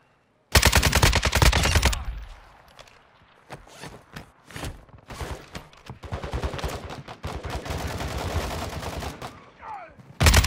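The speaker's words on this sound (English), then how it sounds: "Taking effective fire." Gunfire in the Call of Duty DMZ video game, with a loud sustained automatic burst up front, then scattered and rapid shots of varying loudness continuing to the end.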